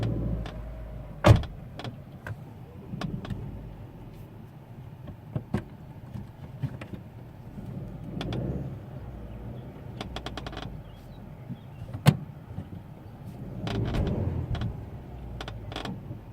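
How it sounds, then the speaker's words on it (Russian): The front passenger door of a Daewoo Gentra gives short, sharp squeaks and clicks at irregular intervals, with a couple of louder knocks over a quiet interior background. "кто-нибудь сталкивался с таким звуком в районе передней пассажирской двери?"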